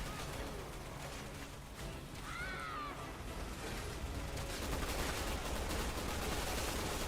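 Gunfire in the video game Resident Evil 6, a dense, continuous rattle of shots blended with a busy game soundscape, moderately loud throughout, with a brief high-pitched cry partway through.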